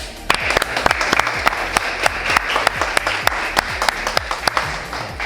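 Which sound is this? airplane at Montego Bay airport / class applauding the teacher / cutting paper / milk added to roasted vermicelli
class applauding the teacher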